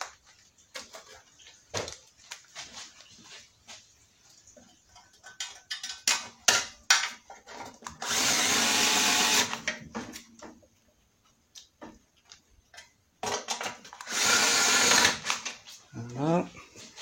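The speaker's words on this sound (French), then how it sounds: "Ma visseuse, elle rallonge." A cordless screwdriver with an extension and a 10 mm socket works on the screws of a Toro recycler mower with a Briggs engine, whirring in two sustained loud bursts amid clicks and handling noises.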